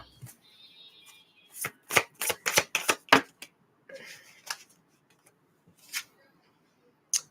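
A tarot deck is riffled in a quick burst of flapping clicks, followed by a few scattered taps and a faint electronic tone.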